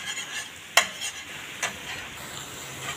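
Onions and garlic for pork adobo sauté in a pan with a soft, steady sizzle, broken by a couple of sharp utensil clicks against the pan.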